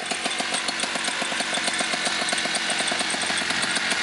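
Paramotor engine on a backpack unit with a clutch and a stationary propeller, idling ahead of a flight under a U-turn Alpine Peak ultralight glider, a steady fast rhythmic putter close by with no talk.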